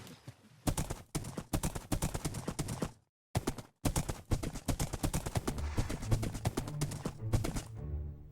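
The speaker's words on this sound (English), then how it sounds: "As you can see, my horse is ridiculously fast." Horse galloping in the Minecraft video game, a fast ridden horse on Bedrock edition: rapid repeated hoof clip-clops in steady bursts, close and loud, with one short pause midway.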